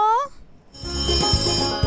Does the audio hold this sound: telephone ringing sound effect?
yes